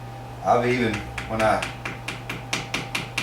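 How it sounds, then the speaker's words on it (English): A hammer taps a seal into place on a Type 4 end play adjustment, about six sharp, evenly spaced knocks following a short stretch of talk, close and moderately loud over a steady low hum. "we'll get this tapped into place. I just use one of these hammers."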